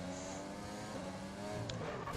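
An F1 race car engine in the F1 2020 video game at the Bahrain circuit, a steady high-pitched drone held throughout, loud and close with slight shifts in pitch and no speech.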